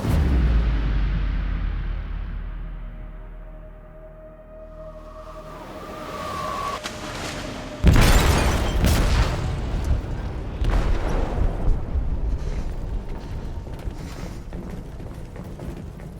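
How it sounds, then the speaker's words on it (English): A ship's hold blows apart in Detroit: Become Human: a low rumbling buildup gives way to a sudden massive blast, followed by crashing debris and lingering heavy rumble, with no talking. "They detonated an explosive in the hold."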